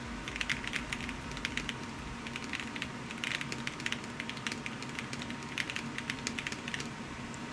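Quiet, steady typing on an $80 computer keyboard, a rapid stream of light clicky keystrokes in irregular bursts, close and alone with no talk.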